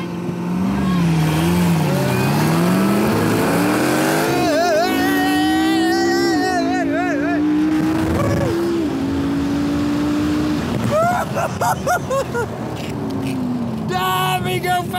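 A McLaren MP4 and a Corvette race car accelerate hard side by side, their engines loud and close as the revs climb, drop and climb again through gear changes, with continuous roar throughout.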